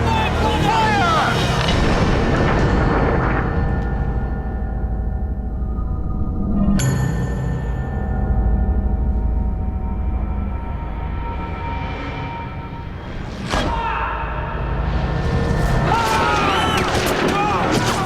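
A firing squad opens fire in the video game 1979 Revolution: a sudden loud crack of gunshots cuts through a dense, loud layer of crowd noise and music. A second sharp burst follows later.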